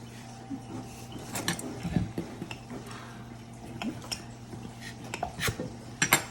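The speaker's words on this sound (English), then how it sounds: "I can hear you doing dishes." Dishes are washed in a kitchen off to one side, with scattered clinks and clatters of plates and cutlery over a faint steady hum, fairly quiet in the background.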